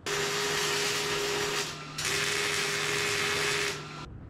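Welding on rear suspension parts of a 1959 IH B100 truck makes a steady, loud buzzing hiss in two long bursts with a brief gap between them, close to the microphone.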